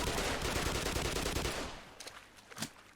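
Gunfire from the video game Black Mesa, a dense rattling burst that fills the first second and a half, then thins into a few scattered sharp reports and clicks near the end.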